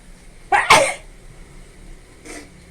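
A person sneezes from pungent chili fumes while stir-frying water spinach with chili: one sharp, close sneeze burst, then a fainter second burst a moment later, with a quiet room behind.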